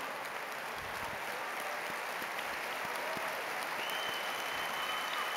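Continuous applause from a large crowd at a Festival of Families gathering with Pope Francis, a broad, steady wash of clapping heard from a distance with faint tonal background sounds.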